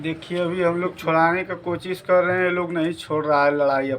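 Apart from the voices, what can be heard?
No everyday noise stands out behind the speech.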